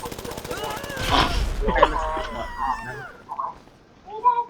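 Gunfire in GTA V Online: a burst of shots around the one-second mark and another sharp crack shortly after, mixed with game effects and overlapping voices talking throughout.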